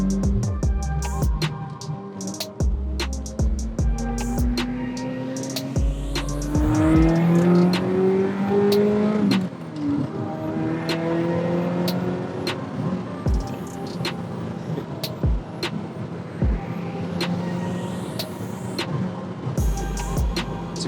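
A Ferrari F355 engine burbles and rumbles at low revs, rising briefly with throttle to about 2,500 rpm, with occasional pops and crackles, close and steady throughout.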